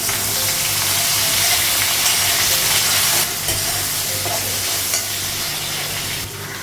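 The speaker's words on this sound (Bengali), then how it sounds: "করলাটা লাগিয়ে দিয়েছি" Bitter gourd fries in a hot pan with a loud, dense, continuous sizzle and hiss, steady throughout with a slight dip partway through.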